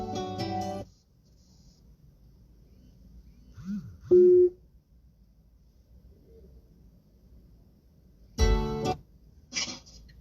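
Telephone call tones before a radio phone-in call is answered, two short beeping tones in the middle of near silence, bracketed by brief bursts of other sound, quiet and distant.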